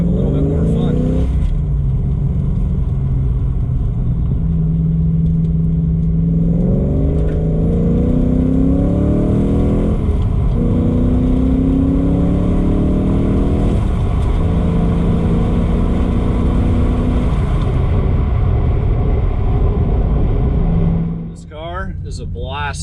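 A 1993 Ford Mustang Fox body revs hard while driving, its engine note rising through several gear pulls in repeated sweeping climbs, loud and close throughout, ending with a brief drop near the end.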